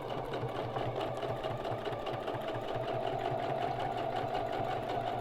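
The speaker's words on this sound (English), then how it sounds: "I'm going to back stitch." Sewing machine back stitching along binding, a continuous close whirring hum with a steady mechanical rhythm, running without pause and without talk.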